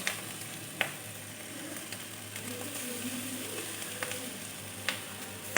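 Vegetables fry in a pan with soy sauce and tomato sauce, giving a steady, fairly quiet sizzle with a few sharp clicks and scrapes of a utensil, and no voices.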